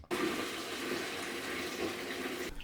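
A toilet flushes in one steady, loud rush of water that swirls for over two seconds and then cuts off, with a fish sent down the drain and no voices.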